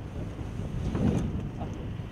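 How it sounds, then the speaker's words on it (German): Strong wind buffets the camera microphone outdoors, a low rumbling roar that swells and gusts steadily, loud and close, with no clear speech. "allein der Wind lässt schon die Kamera wackeln, das ist Wahnsinn"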